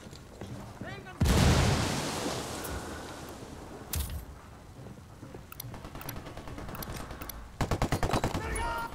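A frag grenade blast followed by bursts of automatic gunfire in the Ghost Recon Wildlands shooter, with a loud boom at the start and rapid rattling shots toward the end, under occasional voices.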